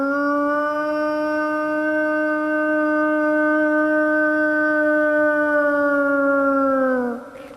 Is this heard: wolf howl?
yes